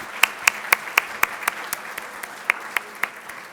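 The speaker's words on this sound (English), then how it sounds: "I just wanted all of us to share our applause with them" Scattered claps ring out at a company meeting, a dozen or so sharp, evenly spaced hand claps from a small group rather than a full roar of applause.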